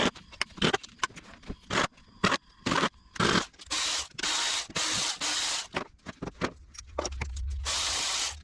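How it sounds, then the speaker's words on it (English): Ratchet working the valve cover bolts on a Yamaha Rhino 660 UTV engine, rapid bursts of ratcheting clicks and longer raspy turning strokes with brief gaps between, close up and alone. "Guess I'll pop the valve cover off and check all the head bolts to start."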